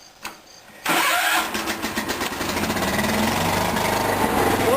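A 1977 John Deere 210 garden tractor engine cranks briefly, then catches and settles into a loud, steady running rumble close by.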